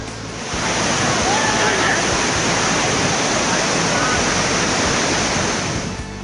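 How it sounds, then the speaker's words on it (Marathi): The Vardayini waterfall in Raigad roars in a steady, dense wash of rushing water, loud and close, continuous throughout. "पाहता क्षणी आम्ही धबधब्याच्या मिठीत शिरलो"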